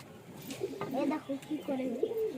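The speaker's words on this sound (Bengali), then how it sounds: "এই না নতুন পায়রা, ড্রামের ভিতরে ঢুকে গেছে খাওয়ার জন্য" Pigeons cooing at home, soft low throaty coos repeating close by, with faint background voices underneath.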